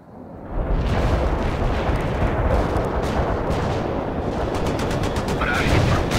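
Artillery barrage and gunfire in the PC strategy game World In Conflict, a loud, dense and continuous roar of blasts and shots that swells in within the first half second and rumbles on steadily to the end.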